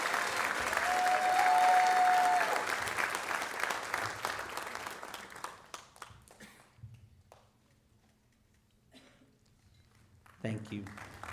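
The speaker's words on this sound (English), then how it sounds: "A nice round of applause for all of our officers here." A crowd at a high school senior assembly applauds student council officers: loud, dense clapping for several seconds that thins out and fades to scattered claps, followed by someone speaking.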